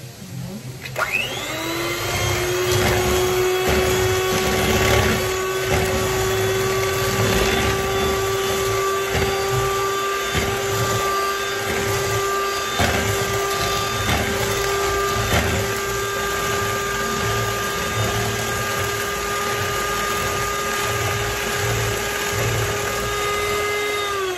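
An electric mixer whirs steadily while mixing cake batter for a stovetop cake, a loud continuous motor hum with a rising tone as it spins up, then a sustained drone with slight bowl scraping.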